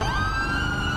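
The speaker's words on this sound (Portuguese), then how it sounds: "Tanta viatura atrás desse cara." Police car sirens from a GTA 5 chase wail loudly and continuously in a rising, sustained tone for a brief moment, with no talk.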